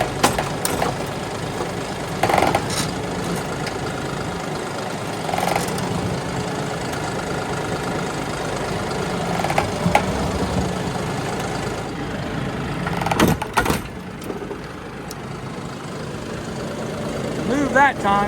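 Tractor engine idling and lugging at a steady low rumble while it drags a wrecked L5P Duramax pickup on a chain, with small surges in effort and people talking over it.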